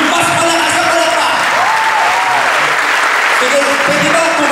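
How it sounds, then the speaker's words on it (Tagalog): Sustained, vigorous clapping from a large church congregation, with scattered voices rising above the applause. "Yung mas malakas na palakpak."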